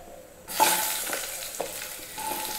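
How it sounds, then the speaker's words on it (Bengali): Cut pumpkin pieces being stirred in hot oil with fried spices, a steady loud sizzle of frying with a few scraping stir sounds, no talking. "তেলের সঙ্গে কুমড়োটাকে একটুখানি নাড়াচাড়া করে নেব।"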